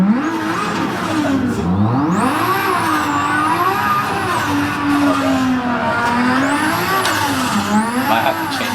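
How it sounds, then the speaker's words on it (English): A race car in a racing sim video game accelerates hard, the engine note sweeping up through the gears and dropping at each shift, loud and continuous, with a faint tire squeal now and then and no talk. "hit the gas pedal"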